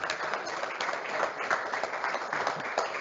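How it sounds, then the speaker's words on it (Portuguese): A symposium audience applauding panel speakers, continuous dense clapping from a sizeable crowd in a hall, steady and moderately loud with no talking over it. "Uma salva de palmas"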